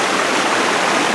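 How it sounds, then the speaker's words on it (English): Bunch Falls cascading down a rainforest slope in Olympic National Park, a loud, steady broadband rush of falling water, close and continuous with no voices. "There's the waterfall up there, cascading down"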